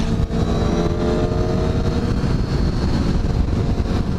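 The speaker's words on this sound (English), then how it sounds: "That was a Harley V-Rod." A Harley-Davidson V-Rod motorcycle rides past, its engine a loud, steady roar that stays close and dense throughout with no pauses, with no talk over it.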